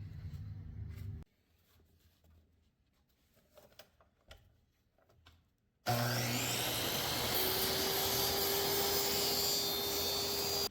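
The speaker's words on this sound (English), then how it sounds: "cut a bevel in it at 45 degrees and overlap the sides over the tops and bottoms" A power saw cutting a 45-degree bevel in wood for a jewelry box for wrist watches starts abruptly midway and runs loud and steady to the end, after a short burst of noise and a quiet stretch of faint handling sounds.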